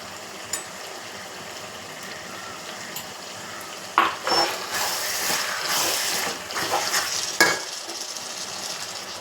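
Ginger-garlic paste fries in a pan for chicken curry, giving a continuous close sizzle with a few louder scraping stirs partway through.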